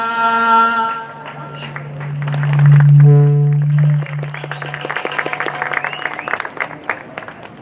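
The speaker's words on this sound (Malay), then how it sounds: "Beri tepuk tangan." At a Seudati traditional arts festival in Pidie, Aceh, a sung or amplified musical passage fades out and the audience breaks into dense, lively applause that builds and carries on to the end.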